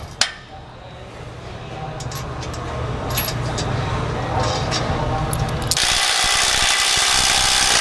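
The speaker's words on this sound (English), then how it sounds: "We can actually throw these shock bolts in and tighten these up now that it's all lined up." Shock bolts being tightened on a 2021+ Ford Bronco fitted with a long-travel prerunner kit: a steady mechanical tool whir with light metallic clinks runs throughout, growing to a louder, broader hiss near the end, with no talking.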